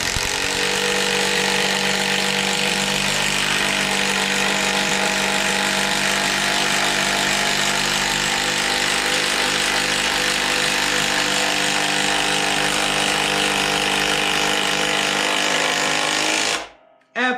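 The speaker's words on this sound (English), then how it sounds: "we're going to go ahead and drive the 8-inch timber lock the same way that the 1/2-inch drill driver did" A Greenworks drill driver sinks an 8-inch timber lock screw into wood in one continuous, loud, steady high-pitched whine lasting about sixteen seconds, then cuts off abruptly.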